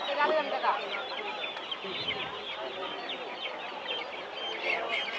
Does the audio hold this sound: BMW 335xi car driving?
no